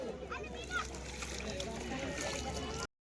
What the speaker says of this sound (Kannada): ಪಿಂಕೋಂಗ್ ನೀರು ಗೆಚ್ತಾ ಇದ್ದಾಳೆ.